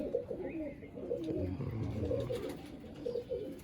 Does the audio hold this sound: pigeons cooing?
yes